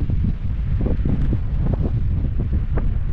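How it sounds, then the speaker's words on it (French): Strong wind rising from the valley sweeps over the Col des Champs, an Alpine pass, on a cold night. It roars steadily and loudly against the microphone in continuous buffeting gusts, with no talking. "on a beaucoup de vent parce que ça remonte de la vallée"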